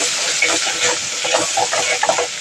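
Turmeric and cumin powders frying in oil in a pan for onion tomato gojju, a loud close crackling sizzle with scattered sharp pops and stirring, no talk.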